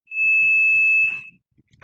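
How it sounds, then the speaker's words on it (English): A fire alarm blares one steady, loud, high electronic tone for about a second before cutting off, leaving faint low murmurs behind it. "somebody's fire extinguisher or fire alarm."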